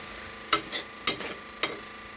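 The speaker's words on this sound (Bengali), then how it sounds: "আর একটু নাড়াচাড়া দিয়ে নেই" Potatoes frying in a pan are stirred with a utensil, giving three sharp scraping strokes at steady intervals over a soft background sizzle, close and fairly quiet, with no talking.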